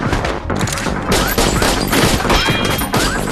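Gunfire crackles through a dense, loud action-film scene, with overlapping shots and crashes packed tightly together across the whole moment.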